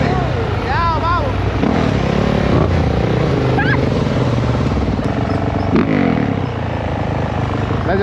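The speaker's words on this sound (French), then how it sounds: "That's your first time on the dirt bike?" A Yamaha YZ dirt bike engine running in the city, a loud steady drone with a few brief pitch swoops as the throttle changes, heard under people talking.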